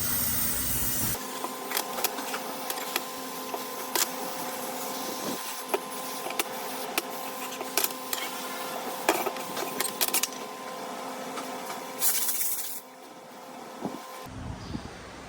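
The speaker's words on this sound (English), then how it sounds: "I have the crown all sprayed out and clean" Aerosol cleaner sprayed over the crown of a burnt 8-speed Camaro transmission clutch, a steady hiss in repeated bursts with metallic clinks and a faint hum, stopping near the end.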